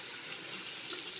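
Tap water runs steadily into a sink while a small chamber from a milk tube system is rinsed out, a continuous close hiss and splash with no talking.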